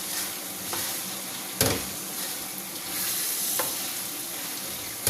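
Half-fried okra being stirred into beef gravy for bhindi gosht, a continuous close sizzle with a few sharp scraping clatters of the spoon against the pan, no voices.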